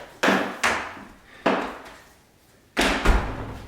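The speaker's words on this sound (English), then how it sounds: "Close that door, make sure it's locked." A door shut during a home resistance-band workout: four sharp wooden slams and thuds at uneven intervals, close and loud, each decaying quickly.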